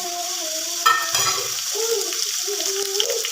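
Ginger, garlic, cumin and whole spices hit hot oil in a pan for a pulao, with a sudden burst of sizzling followed by steady frying crackle.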